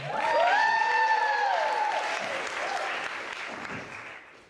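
A good-natured bank holiday crowd at a variety-show performance applauds loudly and steadily, with a whistle-like cheer rising early on before the clapping gradually thins out.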